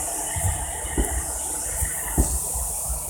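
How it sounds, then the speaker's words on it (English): Fan whirring in the background indoors, a steady broadband hiss and hum with faint rhythmic thumps, continuous and moderately loud, no talking. "Sorry about the fan in the background."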